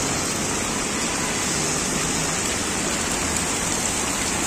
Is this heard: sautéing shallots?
no